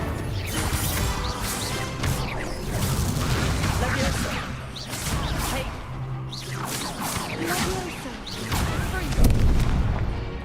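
Spell effects crackle and boom in Hogwarts Legacy as the Incendio fire spell is cast amid a flurry of other spells, making repeated loud crashes and rumbling bursts with voices in between.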